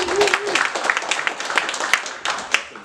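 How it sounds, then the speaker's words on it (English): Audience at a CodeGen hackathon giving a round of applause, a dense wash of clapping from a room of people, with a brief voice at the start. "One last round of applause."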